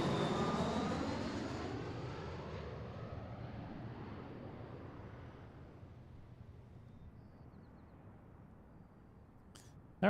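A Southwest airliner lands on runway 34 left at Seattle, its broad engine roar loud at first and slowly fading over several seconds as it rolls out, with a brief sharp noise at the very end.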